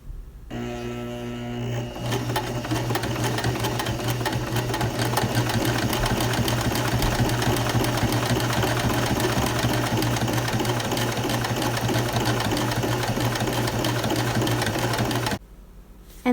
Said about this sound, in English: using a straight stitch, you're going to stitch along the entire collar length.